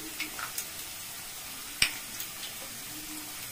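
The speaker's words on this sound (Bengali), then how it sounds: "আলুটা একটু ভেজে তারপরে মশলা কষাবো" Potatoes frying in a pan: an even, soft sizzling hiss throughout, broken by one sharp clink from a utensil and a few faint taps.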